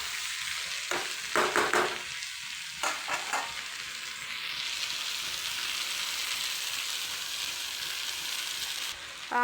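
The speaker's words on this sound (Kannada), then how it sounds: "ಆಲೂಗಡ್ಡೆ ಅಂತೂ ಎಣ್ಣೆಗ ಫ್ರೈ ಆಗಿಬಿಟ್ಟವ್ರಿ" Potatoes and toor dal frying in oil, a steady high sizzle running throughout with a few sharp scraping stirs and clatters of a spoon near the start, close and with no talk.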